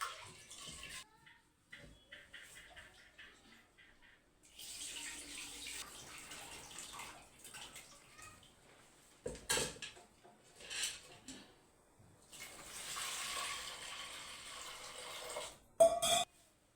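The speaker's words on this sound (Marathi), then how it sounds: "डाळ धुवून घेतो पहिले स्वच्छ" Split lentils washed by hand in water for puran, with intermittent splashing, sloshing and clinks of a vessel in bursts close by, separated by quieter pauses, no talking.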